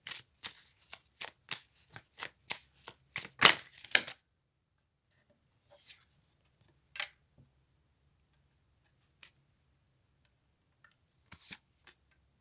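Playing cards being shuffled and handled, with a quick run of crisp riffling snaps at first, then sparse single card flicks and taps in a quiet room.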